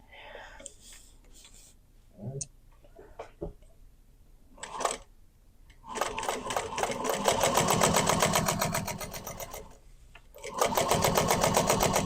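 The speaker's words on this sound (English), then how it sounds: "we'll top stitch along this edge" Sewing machine top stitching along the edge of a cotton woven clutch, short bursts of rapid mechanical stitching, then two longer steady runs, with soft handling noises and quiet talk between.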